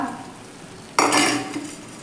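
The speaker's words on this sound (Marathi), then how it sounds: "आता हा गुळ देखील आपण यामध्ये व्यवस्थित असा मिक्स करून घ्यायचा आहे" Jaggery being stirred into grated beetroot while making beetroot barfi: after a quiet start, a sudden burst of scraping, stirring sound begins about halfway through and continues at moderate loudness.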